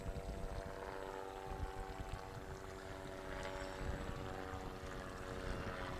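A Hudson Bay tour helicopter passes overhead above a boat on the estuary, its steady rotor and engine drone forming a continuous, moderately distant wash mixed with low water and vessel noise, with no voices.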